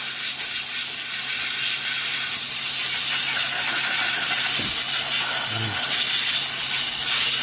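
A Harbor Freight handheld steamer gives a steady, loud hiss of steam throughout while cleaning tarnish, with faint mechanical clicks partway through and no talking.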